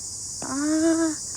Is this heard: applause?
no